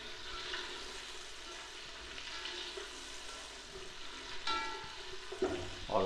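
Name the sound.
frying chopped capsicum for vegetable fried rice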